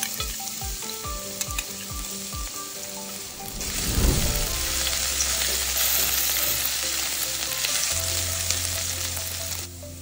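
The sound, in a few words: cumin seeds, garlic and ginger frying in a pan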